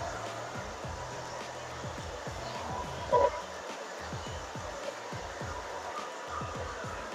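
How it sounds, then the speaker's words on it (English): Blow dryer running steadily close by while styling short pixie hair, a continuous whooshing hum with faint handling rustles throughout. "move your fingers and the blow dryer as you style"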